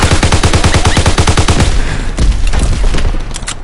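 Rapid machine-gun fire in Call of Duty WWII, a loud, close rattling burst that gives way to a deep explosion thump and scattered, slower shots.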